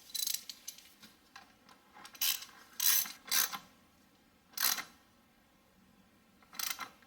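A clamp being tightened by hand on the engine of a 2007 Toyota Highlander Hybrid near plastic parts, heard as scattered short metallic clicks and ratcheting bursts, faint and close, separated by quiet pauses.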